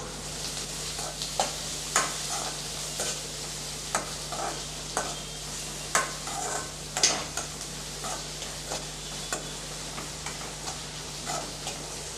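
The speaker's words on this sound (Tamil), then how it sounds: "வெங்காயம் நல்லா பொன்னிறமாகிற வரைக்கும் நல்லா வதக்கி விட்டுக்கலாம்" Steady sizzling of onions frying in a pan until golden, with repeated soft scraping and tapping strokes of stirring throughout.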